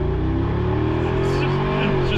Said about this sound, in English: It sounds like an American hot rod, which is why I love AMGs of this era so much.